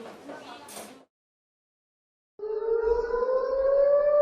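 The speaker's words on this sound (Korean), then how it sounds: "이런 사이렌이 내일 오후 2시에 울립니다" A civil defense siren for a nationwide air raid drill in South Korea rises in a loud, steady wail after a short stretch of talk and silence.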